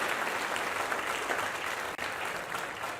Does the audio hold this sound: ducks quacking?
no